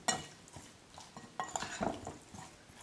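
Soft clinks and scrapes of a utensil stirring oil and seasonings for a chicken wing marinade in a bowl, a few irregular strokes, close and fairly quiet.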